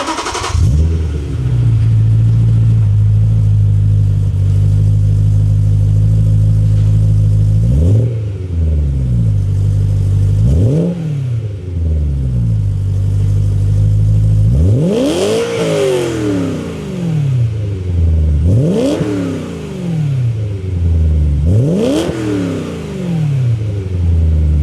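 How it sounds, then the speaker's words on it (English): A BMW E90 M3 fitted with new Magnaflow mufflers idles loudly up close, then gets blipped in a string of sharp revs, each one climbing quickly and falling back to a steady, burbling idle. "start her up, and we'll hear some new music out of her"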